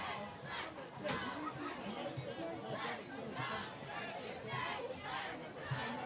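Cheering, shouting crowd at a high school football game between Lincoln and Wells, a steady roar of many voices with repeated swells of yells and battle cries throughout, fairly close and continuous.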